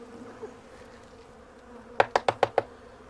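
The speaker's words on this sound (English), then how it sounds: "Trying not to step on bees." Honeybees during a mid-winter hive check give a faint low hum, then five quick, loud, buzzy pulses close by in rapid succession.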